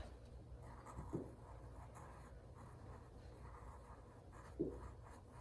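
Pencil darkening the lines of a cartoon hound drawing on paper, a faint steady rubbing scratch with two slightly firmer strokes, close and quiet with no talk.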